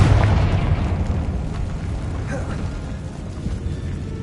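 A Confringo explosive curse in Hogwarts Legacy: one loud, close blast at the start that rumbles and slowly fades into a low echo.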